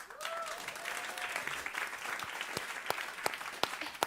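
An audience applauds a co-founder at an event on food security, a fairly faint, steady crowd clapping that tapers into a few scattered, distinct claps near the end.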